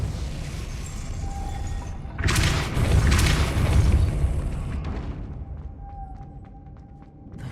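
Depulso force spell striking in Hogwarts Legacy, a heavy booming impact with a rumbling burst that swells and slowly fades against a steady game ambience.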